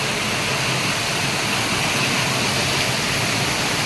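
Heavy morning rain pours down in Surat, a dense, steady hiss of falling water that fills the scene close by without pause and with no voices.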